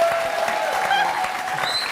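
Studio audience on a French TV talk show bursts into loud, dense applause, continuous close clapping with a few whoops rising over it, briefly sustained.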